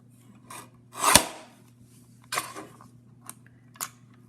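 Scissors cut through paper for a handmade card front in a few short, close crisp snips and rustles spaced apart, with quiet pauses between, no talk.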